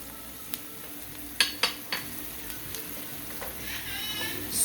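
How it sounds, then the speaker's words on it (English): Onions sauteing in a pan on the stove, a soft steady sizzle under several scraping stirs and light utensil knocks against the pan, with no talking. "let's saute the onions until they're nice and translucent"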